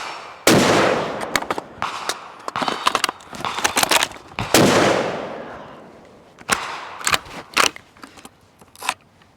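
Bolt-action Ruger American rifle fitted with a Putnik suppressor firing outdoors, several sharp suppressed cracks spaced seconds apart, each trailing off in a long decay, mixed with clicks and handling noises of cycling the bolt and swapping magazines.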